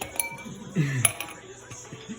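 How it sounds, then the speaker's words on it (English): Ice cubes clink against one another in a cupped hand: a few close, bright glassy taps spread over about two seconds, fairly quiet against a faint background. "These are ice cubes that fly out of my hand"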